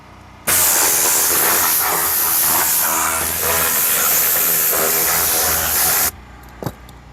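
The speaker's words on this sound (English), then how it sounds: "And then lastly, I will blow these door panels really quick." A loud, steady rush of compressed air blows on car door panels for about six seconds, then cuts off abruptly, followed by a brief small knock.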